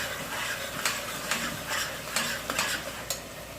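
Spicy beef qeema fries in a pan, with a steady low sizzle and periodic scrapes and clinks of a stirring spoon against the metal, fairly quiet and close.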